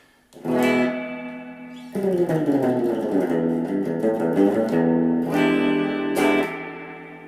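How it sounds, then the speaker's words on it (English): Electric guitar chords ring out with heavy, splashy surf-style reverb, notes blurring into a long wash of echoing space, loud and sustained. "You hear all that space, all those reverberations, reverb."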